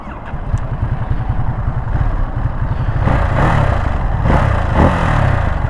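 A Ducati Monster 937 motorcycle engine cranks and fires, then settles into a steady, close idle with a chugging low rumble and a few revs rising over it.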